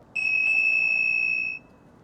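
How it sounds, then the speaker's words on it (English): A loud, piercing, high-pitched alarm tone blares from an electric bike horn in one steady burst of about a second and a half, then cuts off sharply into quiet. "That's like an ear-piercingly loud, high-pitched noise."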